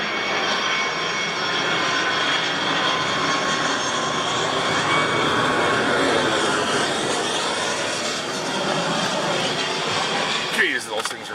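A jet airliner passes low overhead near an airport, a loud, sustained broadband roar that swells and holds steadily across the whole stretch without pause, with a brief rustling clatter of something being handled close by near the end.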